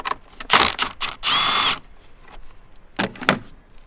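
Ratchet working an 8mm bolt under the hood of a BMW 335i, heard as short bursts of clicking and whirring with a longer steady buzz in the middle, close and loud with pauses between.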